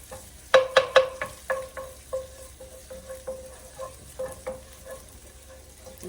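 Vegetables, including sweet peppers, fry in a pan with a soft steady sizzle, broken by a string of sharp spatula scrapes and clinks against the pan that slowly thin out, with no voices.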